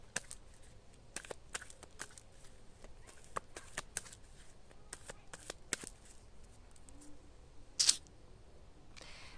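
A deck of tarot cards being cut and handled gives quiet, sparse papery clicks and taps in a hushed room, ending in one brief sharper snap of cards.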